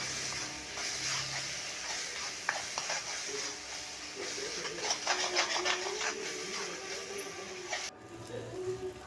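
Spoon stirring through a pan of chicken masala gravy as curry leaves are mixed in for Chettinad chicken, a steady soft scraping and sizzle lasting several seconds with no speech.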